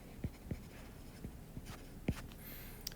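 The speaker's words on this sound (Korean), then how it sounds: "이걸 써볼게요." Marker or chalk writing on a board during a physical chemistry lecture, a handful of short separate strokes and taps, close and fairly quiet with no talking.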